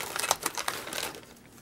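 A big plastic bag of craft supplies being handled, giving a few close crinkling rustles that fade out after about a second.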